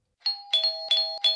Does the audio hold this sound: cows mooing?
no